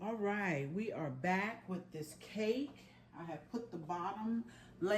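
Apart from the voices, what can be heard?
No distinct noise like a dog, phone or traffic.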